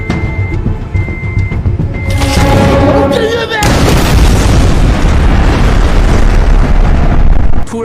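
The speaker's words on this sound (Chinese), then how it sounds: "突然爆炸的一幕让现场顿时混乱" A homemade microwave bomb goes off in a thriller film scene: a quiet tense stretch with faint tones suddenly gives way to a loud, sustained roaring blast that fills the rest of the moment.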